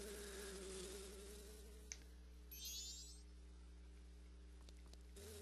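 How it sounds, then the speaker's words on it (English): A bee buzzes in The Legend of Zelda: Majora's Mask over a steady low game hum, a faint insect drone that swells briefly in the middle before fading back under the ambience. "Comes a bee first."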